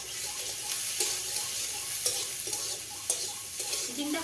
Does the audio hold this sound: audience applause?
no